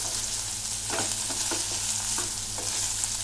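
Cauliflower (gobi) and potatoes cooking in a pan for a Sindhi-style gobi masala, giving a steady, close sizzle with a few soft stirring scrapes and no voices.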